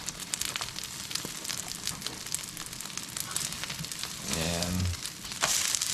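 A homemade dog food mixture, like a pizza-style egg, fries in a big fry pan with a steady close crackling sizzle, broken by a brief scrape and a soft tonal clatter, while someone speaks a word.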